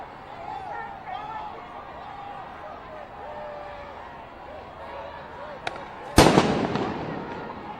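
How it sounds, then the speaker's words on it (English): A police flashbang goes off at a street protest in Los Angeles, one loud, sharp blast near the end of the clip with a smaller pop just before it, over a steady murmur of crowd noise and voices. "Those flashbangs are very loud."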